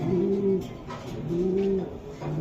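Racing pigeons cooing close by, three soft drawn-out coos over a low murmur of background noise.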